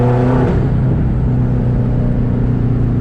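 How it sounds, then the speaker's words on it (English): A 2004 Subaru WRX STI engine revs up and down through downshifts, a steady close, loud drone with shifting pitch and no talking. "Hit it with the necessary downshifts again."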